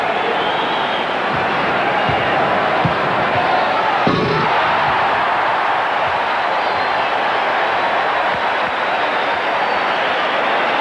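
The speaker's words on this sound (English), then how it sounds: "Now, Michael Jordan with a second of his three dunks in the semifinals." At the 1988 NBA Slam Dunk Competition, a packed home arena roars continuously around a Michael Jordan dunk, with a brief sharp impact partway through the steady crowd noise.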